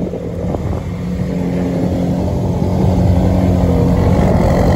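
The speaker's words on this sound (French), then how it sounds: "Ce bruit, le bruit du V8 il est incroyable." A V8 supercar engine idles and then revs at a sprint racing event, a loud, steady growl that builds in intensity, heard up close without speech.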